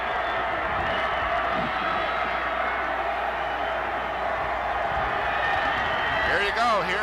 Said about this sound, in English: Here's your crowd noise.